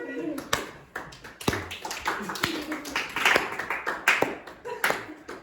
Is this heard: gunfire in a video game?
no